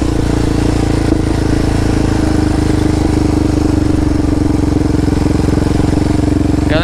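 A Yamaha Raptor 700 quad engine running in fifth gear on a wooded trail, a loud, close, steady mid-pitched drone that stays constant with no voices.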